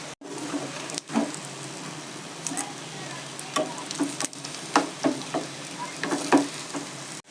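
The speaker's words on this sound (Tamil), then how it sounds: "இப்படியே ஃபைவ் மினிட்ஸ் ஃப்ரை ஆகட்டும் சிம்மில் வச்சு ஃப்ரை பண்ணுங்கள்" Bitter gourd masala with fried seeds sizzling in a pan over low heat, a steady close frying hiss broken by repeated scraping and stirring strokes, with no talking.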